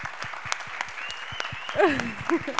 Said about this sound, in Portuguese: uma salva de palmas para vocês, por favor